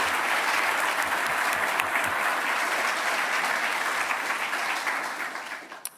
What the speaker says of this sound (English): I would like to give you a big round of applause for Patrick for leading this community and inspiring us to do all this hard work